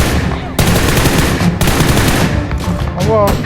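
Rapid bursts of automatic gunfire crackle in the mobile battle-royale game PUBG Mobile, loud and close, breaking off into separate volleys with short gaps, while a player talks faintly underneath.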